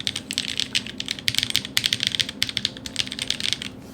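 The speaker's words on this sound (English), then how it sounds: "it has this I want to say signature Gateron clack, so it's not very loud, but the bottom out sound is very clean." Rapid typing on a mechanical keyboard fitted with modded Gateron Sage switches and DCS keycaps, a steady run of close, clean clacky keystrokes with quick irregular rhythm and crisp bottom-outs, not very loud.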